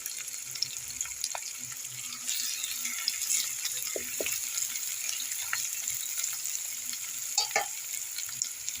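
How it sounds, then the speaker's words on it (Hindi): Onions fry with garlic in a pan, a steady close sizzle with occasional light clinks and stirring scrapes, no talk over it. "अब इसमें जो हम प्याज काट के रखे थे वो प्याज डाल देंगे और प्याज को भी हल्की सी कलर है चेंज होने तक हम इसे फ्राई होने देंगे"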